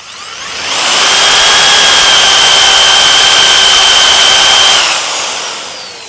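A power drill bores out hundred-year-old rivets, a loud sustained whine that spins up, holds steady with a high tone for several seconds, then winds down.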